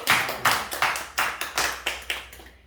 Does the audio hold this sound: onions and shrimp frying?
no